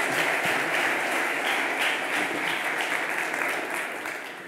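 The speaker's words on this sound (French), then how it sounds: "On peut déjà applaudir cette introduction." A room of conference attendees applauds after an introductory talk on reputational crises, a steady, even wash of many hands clapping that tapers slightly toward the end.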